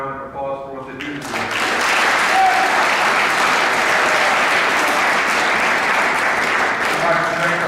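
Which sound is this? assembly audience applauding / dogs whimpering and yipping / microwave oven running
assembly audience applauding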